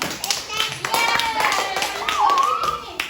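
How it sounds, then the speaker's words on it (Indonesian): A classroom of schoolchildren claps for a group of classmates, a busy burst of hand claps running steadily throughout, with children's voices and a teacher's speech mixed in. "Oke, tepuk tangan untuk kelompok kuning."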